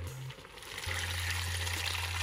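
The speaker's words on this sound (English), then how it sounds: "So now I'm gonna pour my residue." Liquid residue poured into a pot of typical local Ghanaian soup during home cooking, a steady close trickle and splash of about two seconds with no talking.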